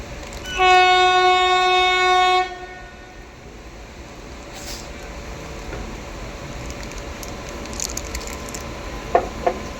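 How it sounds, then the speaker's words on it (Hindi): CR Rajdhani train passing, opening with a loud sustained horn blast lasting about two seconds, then the lower rolling rumble of the wagons going by with a few sharp clanks near the end. "कौन सी ट्रेन है ये? CR राजधानी।"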